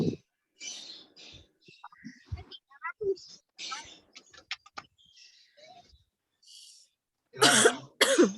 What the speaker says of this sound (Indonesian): Nah, jadi kita kalau mau buang batuk